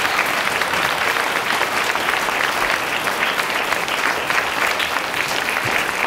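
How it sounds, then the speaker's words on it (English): An audience at a school Veterans Day ceremony claps steadily in a dense, sustained round of applause that holds evenly throughout without fading. "Give a round of applause."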